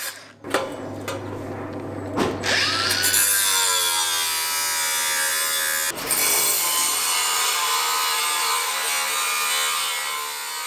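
A saw cutting an angled notch in a wooden shed purlin, rasping strokes close by that build into a continuous whine after a few seconds, briefly interrupted, then continuing.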